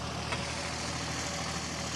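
A tractor engine idling on a farm in Burkina Faso, a faint, steady low rumble with an even mechanical hum and no voices.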